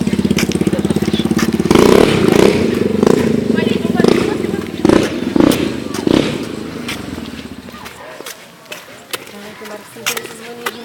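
A dirt bike engine roars close by with loud, choppy revving, then fades as it moves away, leaving quieter background noise and voices in the distance.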